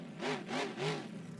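Monster truck engine at a freestyle show in Raymond James Stadium, Tampa, with a flat tire, revving in three swelling pulses as it drives over a ramp, each surge rising and falling in pitch.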